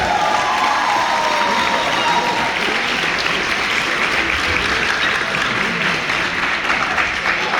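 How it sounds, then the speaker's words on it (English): Sustained applause from a large audience at a high school track and field banquet, dense and loud throughout with scattered cheers and a whistle-like tone near the start. "Give a big round of applause"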